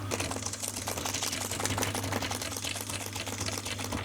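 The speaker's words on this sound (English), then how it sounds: "so you can see properly before I start sewing" Sewing machine stitching an auto upholstery seam: a fast, even mechanical clatter of needle strokes with a low motor hum underneath, running steadily and close throughout.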